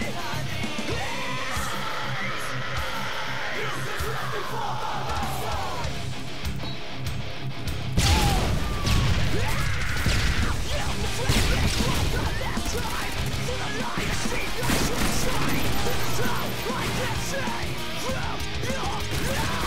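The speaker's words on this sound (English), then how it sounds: "Now, this one's an epic Semtex, and I'm gonna slow it down for you too." A Semtex grenade goes off in Modern Warfare 3 gameplay, a loud crash and burst partway through after quieter game noise, followed by sustained rumbling chaos.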